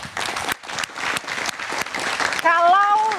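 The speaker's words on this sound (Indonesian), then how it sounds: "Tepuk tangan dulu dong." Applause from a political event audience, a dense loud patter of many hands, with a brief dip partway through and a voice rising over the clapping near the end.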